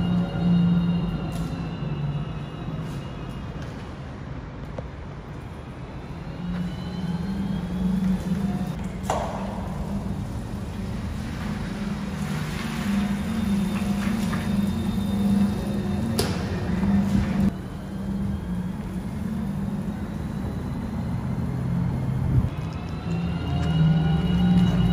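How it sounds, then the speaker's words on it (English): Low, steady electric hum with faint tonal whines drifts from an Audi Q4 e-tron electric car's exterior sound in a dark car park, holding throughout with small swells and shifts at a moderate level. "I want to try and get a recording of the sound of this car"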